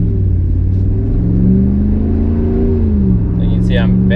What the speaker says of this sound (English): I'm sure you guys can hear the pitch of the engine, like it's accelerating with not a whole lot of input